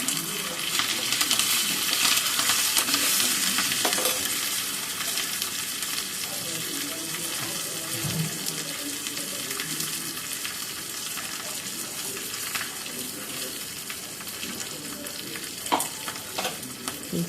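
Curry leaves crackling in hot oil, a steady broadband sizzle that stays close and even throughout, with a few soft knocks and clicks of utensils near the end.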